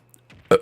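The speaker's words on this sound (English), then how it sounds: "I'm gonna burp again" A single short, loud burp from a person drinking tea, a brief guttural croak that follows a few quiet breathy sounds and fades quickly.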